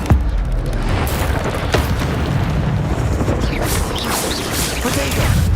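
Booming, crackling burst of the Incendio fire spell in Hogwarts Legacy, a dense roaring blast with continuous rumbling energy throughout, loud and close, with game combat noise layered in.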